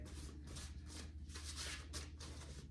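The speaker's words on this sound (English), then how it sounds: "These cards do not. I'm having issues shuffling them today." Tarot cards are shuffled close by in quiet, rapid riffling bursts, a soft papery flutter repeating several times at low volume.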